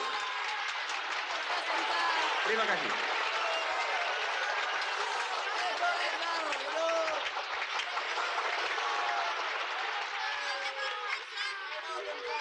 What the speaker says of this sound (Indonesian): Para hadirin, tepuk tangan untuk semua pemenang pada malam hari ini.